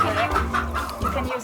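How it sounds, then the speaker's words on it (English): Chickens cluck repeatedly at close range in a Black Thai village setting in Vietnam, a busy run of short clucks under and alongside talk. "Are the chickens attacking?"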